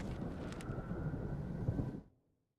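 A raging storm in the video game Alan Wake rumbles and whooshes with loud wind and low thunder, then cuts off abruptly into silence.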